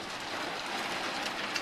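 Steady rain pouring outside at night during a thunderstorm with near-constant lightning, a dense even hiss with faint patter textures and no talking over it.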